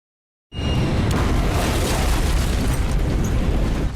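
A Russian glide bomb, an ordinary aerial bomb fitted with wings, detonates with a sudden loud blast after brief silence, then a sustained heavy roar and rumble that fills the rest of the clip.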